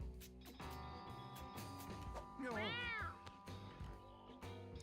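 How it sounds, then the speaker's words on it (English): A cartoonish cat meow from the video game Mewgenics sounds over background game music, a single rising and falling call near the middle. "Meow meow."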